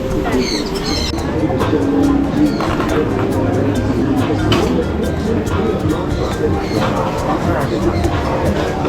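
Pigeons cooing and fluttering close by while being fed at a busy outdoor stop, with people talking steadily over the birds throughout.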